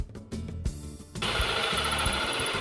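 A cordless drill boring through a sailboat's gel-coated binnacle, with a short stuttering start followed by a steady, loud whirring grind, close and alone.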